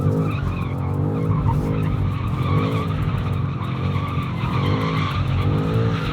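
The tyres of a new BMW M5 skid in a loud, sustained squeal over a roaring engine, with no break throughout.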